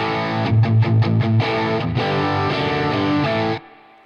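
A modern high-gain distorted electric guitar amp tone rings out as thick, saturated chords, first chopped into short rhythmic stabs and then held as a sustained chord that cuts off abruptly near the end, loud and alone.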